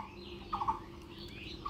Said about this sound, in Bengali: কি সুন্দর ডাকে না পাখিটা